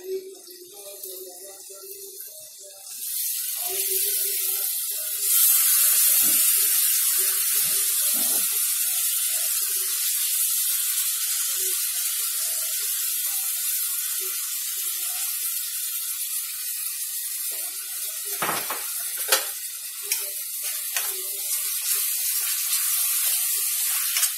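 Peas frying in a pan give a steady, close sizzle and hiss after a quiet opening of a few seconds, with some clatter and light handling noise while the steady crackle runs throughout.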